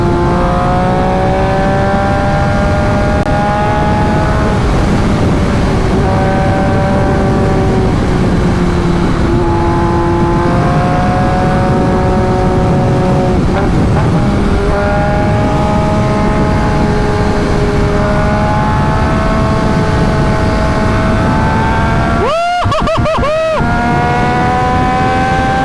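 An MV Agusta Brutale 800 RC motorcycle engine drones loudly and steadily while riding, its pitch rising and falling through gear changes, with a sharp rev swell near the end.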